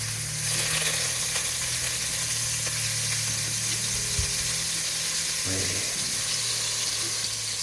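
Food frying in hot oil for Senegalese thiéré, a steady close sizzle with a low hum beneath and a few faint clicks and bumps.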